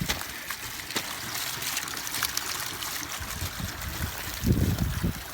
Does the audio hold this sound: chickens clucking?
no